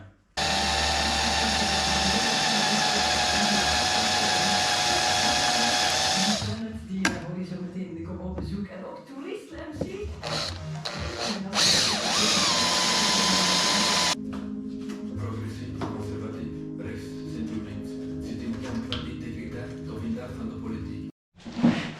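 Power tool working loose rusty bolts on a Triumph TR6 chassis in a home garage, a loud continuous whine for several seconds, then intermittent bursts and clanks, with people talking over it.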